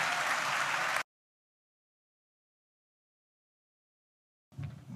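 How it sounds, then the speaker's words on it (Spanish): Audience applause at a panel discussion, a brief loud burst of clapping that stops abruptly, then after a few seconds of silence a fainter resumption of clapping begins. "un aplauso a los panelistas"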